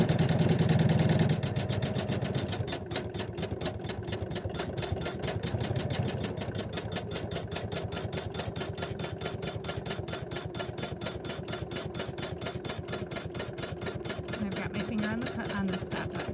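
An embroidery machine stitches purple thread on a gingerbread house quilt block, a fast steady mechanical needle chatter close by that runs without pause after a louder start.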